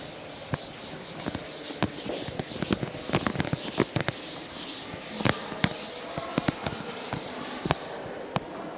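Board being erased during an engineering class on gantry girder connection design, a soft scratchy rubbing of irregular strokes, fairly faint and close, with no talk.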